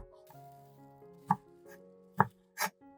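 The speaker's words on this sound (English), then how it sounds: "Place the green onions on a cutting board and chop them into bite-sized pieces" A knife chops green onions on a cutting board in three sharp, separate strikes, close and crisp, with soft kitchen tones humming between them and no voices.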